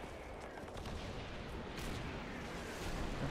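Grenade blast in the World War II shooter Call of Duty 3, a dull rumbling explosion with rolling low-end noise and scattered gunfire-like crackle, steady and fairly loud throughout with no speech.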